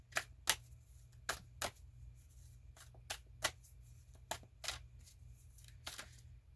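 Cards are riffled and snapped in a series of short, crisp bursts at irregular intervals over a quiet, low background hum.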